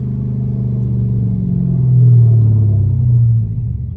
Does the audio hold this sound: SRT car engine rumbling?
yes